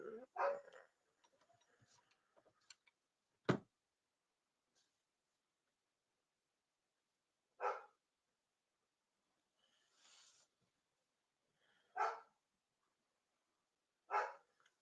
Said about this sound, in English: Let me just stop the dogs from barking 1 second.